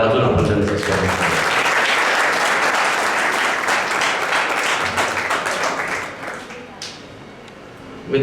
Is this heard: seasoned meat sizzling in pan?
no